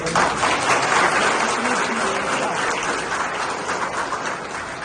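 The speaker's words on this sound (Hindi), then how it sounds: "एक बार जोरदार ताली बजाने के लिए" A loud round of applause fills a political party gathering in Kota, dense clapping from a large crowd that starts strong and eases slightly toward the end, with no voices on top.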